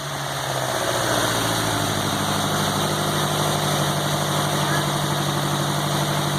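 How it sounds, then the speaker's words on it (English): A Volkswagen Golf GTI Mk2 engine fitted with motorcycle carburetors idles steadily with the choke on, a low, throbbing rumble, loud and close, with a faint voice talking briefly underneath. "Sounds like a completely different engine with the choke on it."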